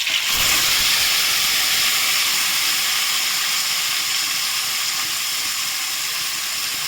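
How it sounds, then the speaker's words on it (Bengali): Marinated fish hits hot oil in a wok, bursting into a loud, steady broadband sizzle that holds strong for several seconds, close up and with no speech. "এখন আমি মাছটা মেখে রাখা মাছটা দেবো।"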